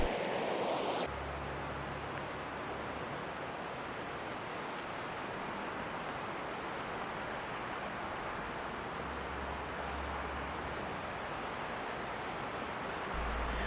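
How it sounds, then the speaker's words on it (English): Sope Creek flows past in a steady, even rush of water, an unbroken broadband hiss at moderate volume with no voices. "The creek is actually fairly loud"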